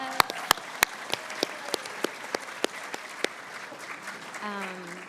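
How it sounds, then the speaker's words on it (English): An audience at a talk claps sparsely, a thin string of separate, evenly spaced claps that trails off as a voice begins at the end. "give yourself a round of applause"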